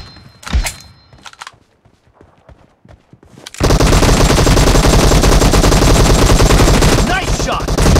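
Gunfire from a team deathmatch in a warehouse in the mobile shooter PUBG Mobile, first a few scattered loud shots and thuds, then a dense unbroken barrage of shooting that fills the second half.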